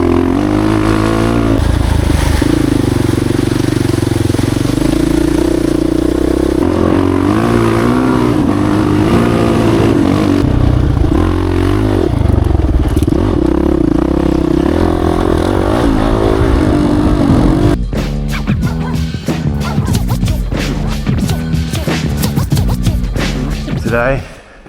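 Honda CRF450X enduro motorcycle riding through mud and sand, a loud close engine roaring and revving continuously with shifting pitch, then choppy bursts of throttle near the end.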